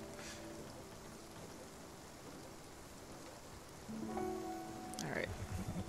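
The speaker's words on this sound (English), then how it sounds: "It's raining." Steady hiss of rain falling throughout in the video game Spiritfarer, with a low hum and tonal game sounds joining near the end, and some speech mixed in.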